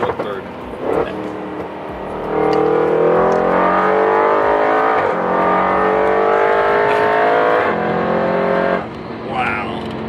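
A 700 WHP Audi RS7 pulls hard on a test drive, its engine rising loudly through the revs with one shift partway and easing off near the end, heard from inside the car with voices over it.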